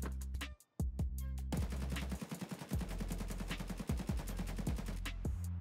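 Rapid AKMS rifle fire in the shooter game Escape from Tarkov, several sustained automatic bursts of loud, close cracks with brief gaps between them.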